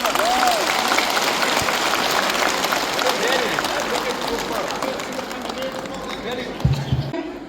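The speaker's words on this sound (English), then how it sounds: "give a clap to him" An audience claps steadily at a public event, a dense wash of applause that stays fairly loud and slowly thins, with voices mixed in.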